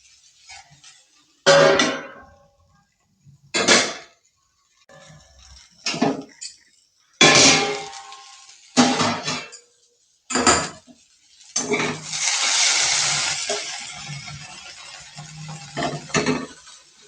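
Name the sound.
pot lid being placed on a pan of cooking okra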